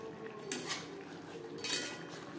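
A spoon stirs bhetki fish kalia curry in a pan with two soft, faint scraping strokes against the metal.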